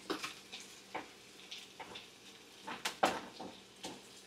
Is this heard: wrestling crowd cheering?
no